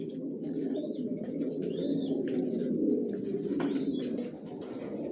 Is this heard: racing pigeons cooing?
yes